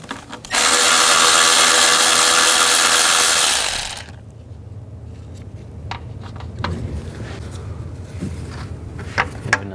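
A tool spins bolts off a 2010-16 Buick LaCrosse engine with a 10mm socket during spark plug replacement: a loud, continuous mechanical whir runs for about three and a half seconds, then cuts out, leaving quieter clicks and handling knocks.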